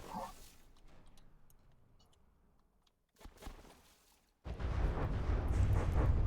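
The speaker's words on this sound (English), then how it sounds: "As the mortars barely just bracket the back of the vehicle." Mortar shells from a video game land around a vehicle, with a few distant rumbling impacts followed by a loud, sustained blast of noise near the end.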